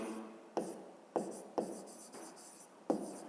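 Pen or chalk writes out a math expression by hand in short scratchy bursts, a handful of strokes separated by brief pauses, close and fairly quiet with no voice.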